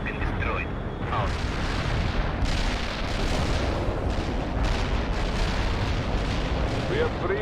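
Artillery fire in the World in Conflict video game rumbles as continuous heavy explosions and booms, loud and dense throughout, with radio-style voices talking over the barrage.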